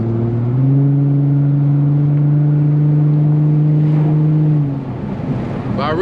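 An Infiniti G35 engine holds a loud, steady drone under a hard pull in manual mode, close and constant for several seconds before easing off at the end.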